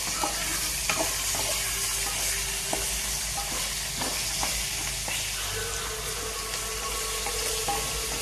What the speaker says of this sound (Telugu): ఇలా మొత్తం వేపుకోవాలన్నమాట.